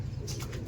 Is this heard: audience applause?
no